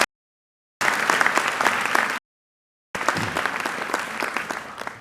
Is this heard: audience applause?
yes